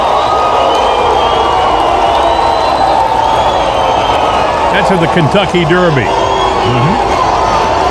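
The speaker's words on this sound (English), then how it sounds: "Thousands cheering Donald Trump." A large crowd at the Kentucky Derby cheers and whoops for Donald Trump, a loud, continuous roar with shouts rising near the end, while someone speaks over it.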